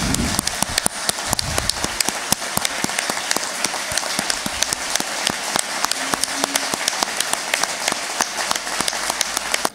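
Audience applause at the Taifa de la Milagrosa festival event in Cruce de Arinaga, a steady, dense crowd clapping that continues evenly throughout at moderate loudness.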